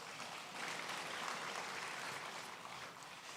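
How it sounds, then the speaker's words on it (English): Audience applause at a presidential inauguration lecture, a faint, distant wash of many hands clapping that swells slightly and holds steady. "If you want to clap for the youth, clap for us."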